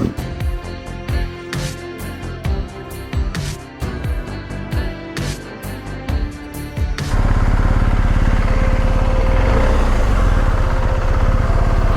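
A motorcycle in neutral fires up about halfway through, its engine catching and then settling into a loud, steady running rumble close by after a stretch of quieter mechanical clicks and shifting sounds.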